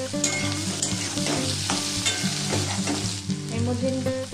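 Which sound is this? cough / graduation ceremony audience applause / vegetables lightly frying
vegetables lightly frying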